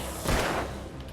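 Gunfire in Alan Wake, a single sharp, loud burst with a short rumbling tail that fades within a second.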